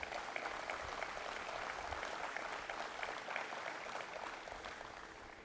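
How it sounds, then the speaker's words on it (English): Audience at a state governor's announcement applauding, a sustained, fairly faint spread of many hands clapping evenly throughout before easing off slightly at the end. "Let's give her another round of applause."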